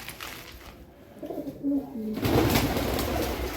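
Pigeons coo close by with a short run of soft, low, throaty calls, followed by a broader rustling burst that covers the rest of the clip.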